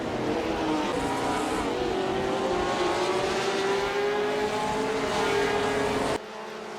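Racing cars of the 1958 Dutch Grand Prix accelerate off the start at Zandvoort, a dense, continuous engine roar with a rising pitch, steady and loud before cutting abruptly to quieter rumble.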